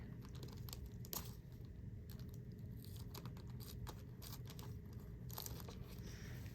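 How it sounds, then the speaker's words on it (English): Parafilm is cut from its big box into a large square, giving faint close crinkling and snipping with scattered small ticks and rustles over a few seconds. "you'll take the big box and cut out a big square"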